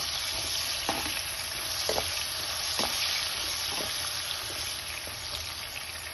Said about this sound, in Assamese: এতিয়া আলুখিনি ভজা প্ৰায় হৈ গৈছে, ৰঙচুৱা হ'ল। এতিয়া এইখিনি মই তেলৰ পৰা উলিয়াই লৈছোঁ।